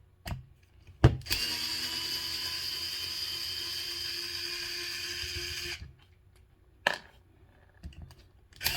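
A power driver whirs continuously for several seconds, unscrewing screws from a tire bead lock, framed by sharp clicks and clanks of handling before and after, recorded close with no talking.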